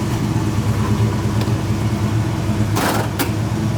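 Idling engine of a 1969 Mercury Cougar with a manual five-speed gearbox, a steady low rumble held close and continuous, with a brief mechanical clunk or rustle near the end.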